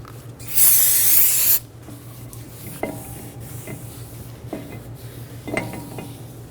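Brake parts cleaner sprays onto the front brake rotor of a 2007-2011 Toyota Camry in one loud, close hiss lasting about a second. Scattered light metallic clinks and taps follow afterward.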